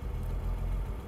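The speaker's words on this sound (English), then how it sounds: "Nice smooth idle." A 1964 Mercedes-Benz 230SL Pagoda idles smoothly, a low, faint, steady engine hum heard briefly with no talk over it.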